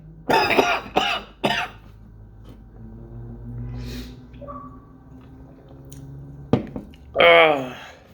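Several harsh coughs and throat-clearing bursts, a quick cluster at the start and another near the end, close up, with quiet pauses between.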